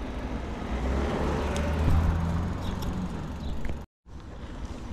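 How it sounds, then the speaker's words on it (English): A car passes on a residential street, a steady broadband road rumble heard from a moving bicycle, fairly loud and continuous, with a brief dropout near the end. "As soon as I get away from this car."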